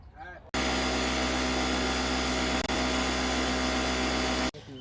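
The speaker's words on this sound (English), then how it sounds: "then I'm gonna fire up the compressor, so I'm gonna shut the camera off for a minute until that charges" A loud, steady air compressor motor runs continuously at close range for about four seconds, charging its tank, with a brief dip midway and quiet gaps at the start and end, in a workshop while tires are being replaced on a dump trailer.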